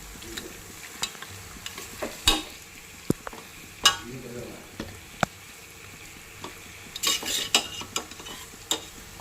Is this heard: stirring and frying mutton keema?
yes